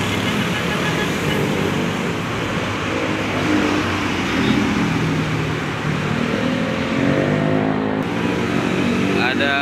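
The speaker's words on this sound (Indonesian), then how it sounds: "Bus panorama ya, pariwisata nih." Tourist panorama bus driving past on a road in Tanah Tinggi, Tangerang, a steady loud engine and traffic rumble rising and fading over several seconds, with people talking over it.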